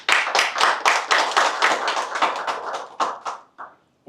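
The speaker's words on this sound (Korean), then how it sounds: "힘찬 박수 부탁드립니다" Press conference audience claps strongly and steadily for about three seconds before the applause thins into a few scattered claps and trails off.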